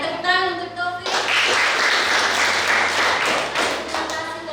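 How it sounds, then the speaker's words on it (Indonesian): A classroom of students claps for a classmate, a tonal opening giving way after a second to a burst of many hands clapping together, fairly close and steady for the rest of the moment. "tepuk tangan untuk Taufik"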